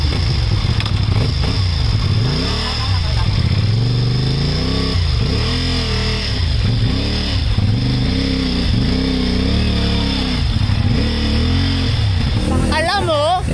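A motorcycle engine runs close by, loud and steady with rising and falling revs, while people talk over it.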